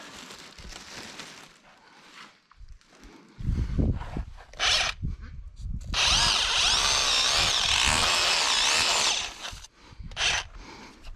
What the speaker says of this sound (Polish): i możemy, możemy wiercić